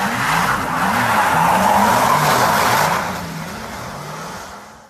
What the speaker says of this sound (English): you can turn the traction control off and have some tail-happy drifting action